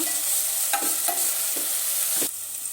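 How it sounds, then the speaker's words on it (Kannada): Onion and tomato fry in a pan for avarekalu saagu, a steady close sizzle broken by several sharp scrapes as a spoon stirs them. "ಒಂದು ಸಣ್ಣ ಟೊಮೊಟೊ ಚೆನ್ನಾಗಿ ಮೆತ್ತಗಾಗೋ ತನಕ ಹುರ್ಕೊಳ್ಳೋಣ"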